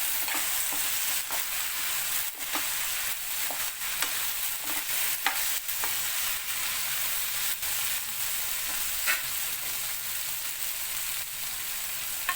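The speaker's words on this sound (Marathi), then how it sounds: "एक छोटा चम्मच हळद एक छोटा चम्मच गरम मसाला मिक्स करून घेऊया" Turmeric and garam masala being stirred in a hot frying pan, a steady close sizzle with scraping spoon strokes and occasional clicks against the pan, no voices.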